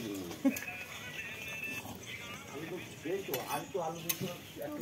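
Metal utensils clank and scrape against a wok during home cooking of khichuri and aloo dum for Makar Sankranti, the irregular clinks running throughout under a busy kitchen background with faint voices.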